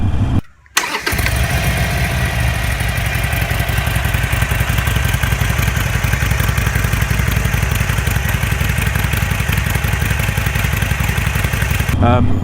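A Harley-Davidson Iron 883 motorcycle with custom exhaust pipes starts up after a brief silence and settles into a loud, close, steady rumbling idle with a fast throbbing pulse, running continuously to the end.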